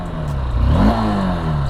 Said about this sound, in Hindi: कर लिए बाइक को ऑन।